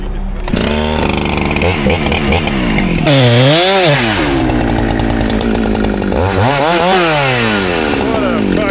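A chainsaw, unsharpened, cuts into a large tree stump with a loud, close, continuous snarling roar that rises and falls in pitch as the engine revs and bogs during the cut.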